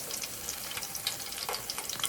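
Potato chops fry in oil with a soft, continuous bubbling sizzle and scattered light pops, faint and close, with no voices.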